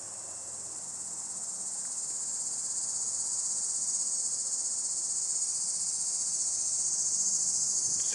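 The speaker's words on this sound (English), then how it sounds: "Cicadas." Cicadas drone in the woods with a steady, high, shimmering buzz that holds without a break throughout. The buzz swells slightly over time, with no voices present.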